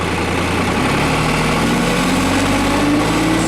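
A 2005 New Holland TC35A tractor's engine idles steadily, a loud, even, low rumble that holds constant from start to finish with no voices.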